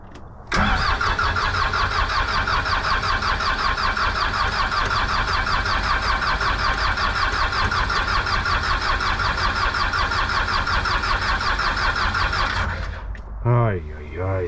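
A John Deere track loader's engine cranks hard with a helper starter for about twelve seconds, a loud steady churning grind, then stops and a squealing tail follows.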